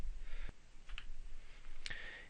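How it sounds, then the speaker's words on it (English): Several sharp, quiet clicks from a computer keyboard and mouse come at irregular intervals over a faint background hum, close and isolated with no talk. "I'll hit F on the keyboard to easily get rid of those."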